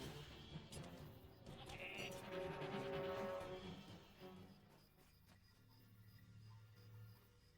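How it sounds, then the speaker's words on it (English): Goats bleat in the Lord of the Rings Online Spring Festival instance, several wavering calls in the first half over faint game ambience, then quieter background sounds with no talking. "More goats coming."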